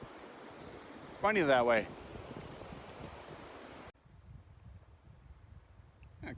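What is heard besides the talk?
river rushing in winter, Banff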